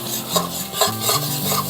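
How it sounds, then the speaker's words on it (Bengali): Spice paste for a Bengali rohu fish curry being stirred and fried in a pan, a short stretch of close scraping strokes over a constant frying hiss. "আমি মশলাটা ভালো করে কষিয়ে নেব"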